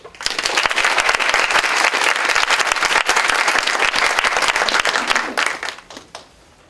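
Loud, sustained applause from a lecture audience welcoming a performance artist, dense clapping that swells, holds steady, then tapers off to quiet at the end.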